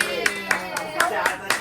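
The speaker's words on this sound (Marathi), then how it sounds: "चला टाळ्या वाजवा." Several people clapping hands in a quick, even rhythm at a family cake-cutting at home, close and fairly loud with a voice or two mixed in.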